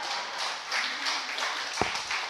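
Church congregation clapping during a Sunday worship service, a soft, scattered patter of hands at moderate distance with one sharper nearby clap, brief and fairly quiet.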